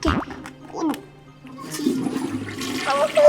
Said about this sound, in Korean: 그럼 지금 변기를 열심히 뚫을게